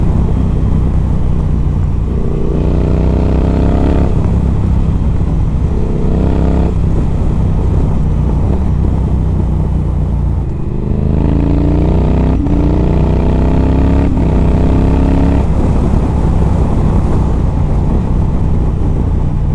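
A modded Triumph Thruxton R motorcycle roars loudly while riding, engine climbing in pitch through repeated quick-shift gear changes, with wind rush constant underneath.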